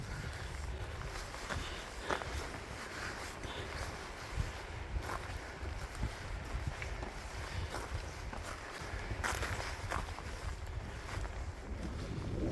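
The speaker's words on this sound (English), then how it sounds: "The wind has picked up a little bit." Steady wind buffeting a microphone on an outdoor hiking trail, a continuous broadband rush with gusty swells and faint footsteps beneath it, and no talking.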